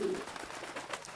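A pigeon in the One Piece anime gives a short cooing call at the start, followed by faint, soft murmuring coos under quiet background ambience.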